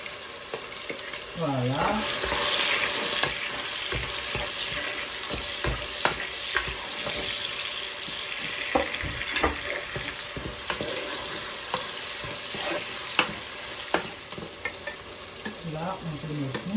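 Onions sizzle in a pot and are stirred, with scraping and clinking over a continuous fry for a peanut-sauce chicken dish; a voice speaks briefly at the start and near the end.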